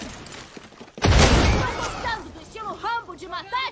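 Gunfire in the video game Far Cry 6 erupts as a sudden loud burst of shots and a blast that fades out, followed by someone talking.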